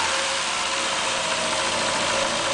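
A 1500cc MG Midget engine idles steadily and smoothly, a close, even mechanical hum with a faint rhythmic knock running throughout, with no voices.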